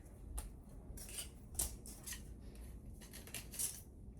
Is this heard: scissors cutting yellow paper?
yes